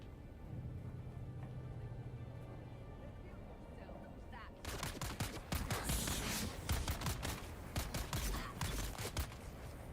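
Sniper team gunfire in a video game, quiet ambience for the first few seconds, then sudden bursts of sharp shots and volleys in rapid clusters through the second half, fairly loud.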